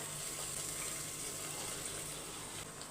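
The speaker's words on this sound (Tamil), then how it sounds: "கிரேவி வந்து எந்த அளவுக்கு வேணுமோ அந்த அளவுக்கு தண்ணி சேர்த்துக்கோங்க." Water pours steadily into a potato and pea gravy, a continuous gushing, splashing stream heard close up and fairly quiet, with no talking over it.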